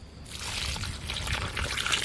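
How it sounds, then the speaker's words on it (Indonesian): Water pours steadily into fertilized holes in the soil around longan trees, a soft, continuous trickle and splash, close up and alone, lasting throughout. "Lubang ini disiram pelan-pelan"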